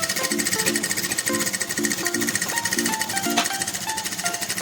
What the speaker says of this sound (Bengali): একটা সরু করে সেলাই দিয়ে দিচ্ছি।